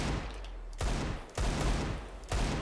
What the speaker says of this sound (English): you gotta practice your deagle headshots